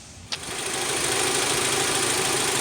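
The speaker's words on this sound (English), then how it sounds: "Here goes our cranking test." A car engine cranking and catching during a 12-volt battery cranking test, starting with a sharp click and settling into a steady, loud, close running drone that continues alone.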